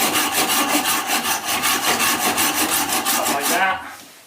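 Rhythmic back-and-forth sawing cuts small pieces for a craft, each close, loud stroke evenly spaced for several seconds before stopping abruptly.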